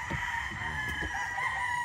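An Allen Roundhead gamecock gives a short crow over a steady high electrical hum, moderately faint, with no talking.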